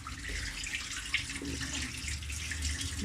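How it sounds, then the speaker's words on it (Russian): Tap water runs steadily over a decoupage kitchen cutting board coated with two layers of acrylic lacquer, a continuous close splashing wash with no talk. "Видите, вода прям вот скатывается с нее."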